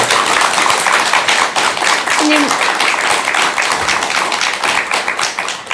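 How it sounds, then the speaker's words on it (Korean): Audience clapping in encouragement for a running Buddhist monk, a steady dense patter of applause throughout, with a voice speaking over it. "지금 응원의 박수 한번 드리겠습니다."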